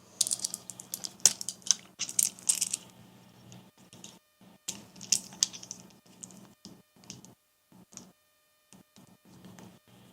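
Joints of a metal Neewer boom arm with rubber grips are loosened and folded down, giving a run of close clicks, ratcheting ticks and small metallic knocks in irregular bursts with short quiet gaps.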